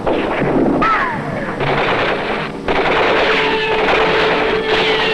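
Gunfire rattles against a shield in a 1966 Captain America cartoon: loud, dense bursts of shots with whining ricochets and sharp impacts, continuous and close.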